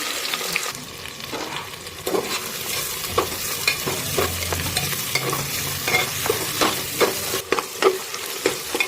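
Chopped onions fry in oil in a pan for mutton bhuna, a continuous close sizzle broken by repeated sharp scrapes and knocks of a stirring spoon, with no voices.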